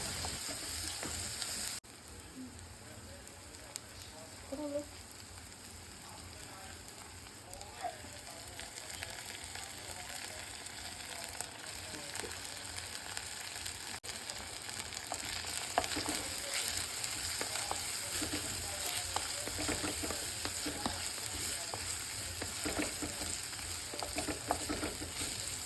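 Shallots, curry leaves and crushed ginger paste sautéing in a pan for a Kerala-style fish curry, a steady close-up sizzle with soft scraping as they are stirred, continuing evenly and growing slightly livelier toward the end.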